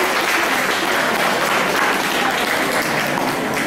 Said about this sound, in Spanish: recibimos al autor con un fuerte aplauso